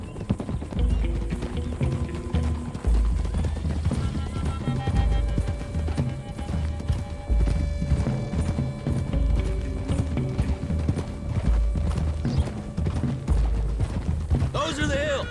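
In Red Dead Redemption 2, horse hooves clip-clop at a steady gallop under continuous game music and ambience, with occasional voices and a brief whinny near the end.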